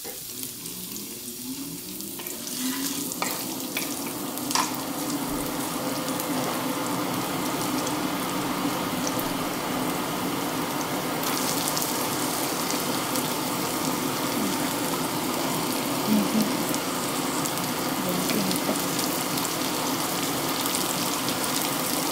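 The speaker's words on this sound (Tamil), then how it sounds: "எக்ஸாஸ்ட் ஃபேனோட சவுண்டு வேறு கேட்கும்" A kitchen exhaust fan runs continuously in a Tamil food kitchen where chilli parotta is being made, producing a steady, loud whooshing hum mixed with rushing, water-like noise and occasional clatter.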